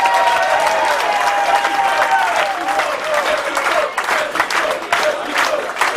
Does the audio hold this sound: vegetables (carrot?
no